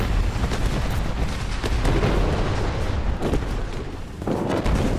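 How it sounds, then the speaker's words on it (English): Toy cannons fire in a tabletop recreation of an American Revolution battle, a dense run of booms and cracks that overlap into a continuous, loud barrage with a brief dip near the end. "the British cannons are firing back"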